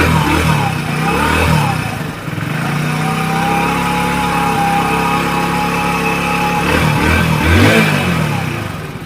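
A Hero HF Deluxe BS6 motorcycle engine, kick-started, runs steadily at idle close by, with two brief revs rising and falling near the start and again toward the end.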